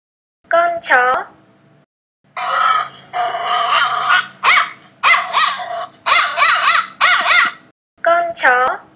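A dog barks and yips in quick clustered bursts, close and loud. A brief speaking voice comes before and after the barking.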